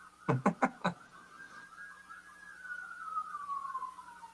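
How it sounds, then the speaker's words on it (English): Several knocks sound close by, then a police siren wails in the distance as it passes, its steady tone sliding lower as it fades. "it's definitely sirens."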